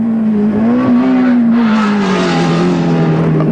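Jim Richards' turbocharged BMW race car, 1983 Australian GT Championship, heard onboard: a loud, close engine drone whose pitch climbs slightly, then sags and settles across a few seconds, with no talking.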